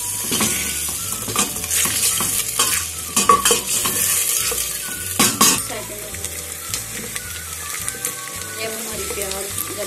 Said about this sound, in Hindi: ये हम प्याज डालेंगे अपनी। प्याज को ब्राउन करेंगे।